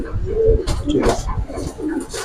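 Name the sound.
Sabchila Giribaz pigeon cooing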